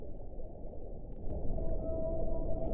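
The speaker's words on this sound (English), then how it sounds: "we need some whale sounds for this" Whale vocalizations played from a soundboard, a continuous low rumbling call with a rising tonal moan emerging partway through, loud and alone.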